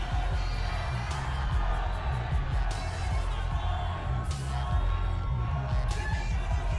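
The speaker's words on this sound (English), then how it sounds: "You can hear the fans getting into" Fans at the 2019 Arnold Classic bodybuilding final comparisons cheer and whoop steadily as a large crowd, a dense continuous roar with brief swells of shouting.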